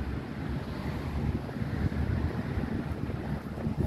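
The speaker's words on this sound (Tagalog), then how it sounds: "Mahangin na, pero ano." Steady seaside wind buffets and rushes in a continuous low roar, with a faint wash of surf beneath it and no talk.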